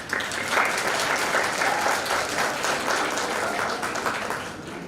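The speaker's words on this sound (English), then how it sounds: "A big round of applause for all of us." Graduates at an A-level graduation ceremony clap together in a hall, a full, sustained round of applause that stays loud and even before easing slightly at the end.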